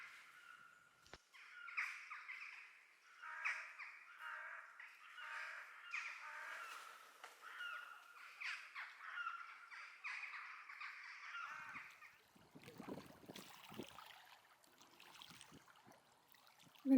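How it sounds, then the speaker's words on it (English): Several crows caw from a tree overhead, where they feed on red berries; harsh calls repeat steadily and fairly close, then thin out into scattered rustling and flapping toward the end as the birds fly off. "The crows were feeding off red berries on the tree above."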